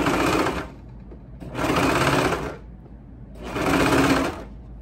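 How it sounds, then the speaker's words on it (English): A serger sewing machine stitches and trims fabric for distressed shorts in three loud, close bursts of rapid mechanical whirring, each about a second long, separated by short pauses. "be careful using the serger, because there is a razor on the side that cuts fabric"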